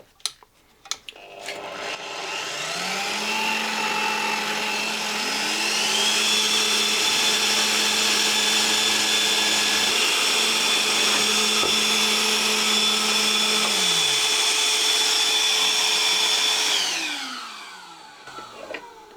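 A power drill whines steadily at high speed for about fifteen seconds, spinning up and winding down, with a sustained motorized hum.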